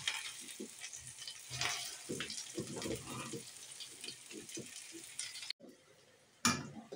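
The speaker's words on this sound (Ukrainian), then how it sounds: "Обсмажуємо наші маннички до золотистості з кожного боку." Semolina cakes (mannyky) fry in vegetable oil with a steady close sizzle and crackle, punctuated by brief clatters of a utensil turning them, a short drop near the end before the sizzle resumes.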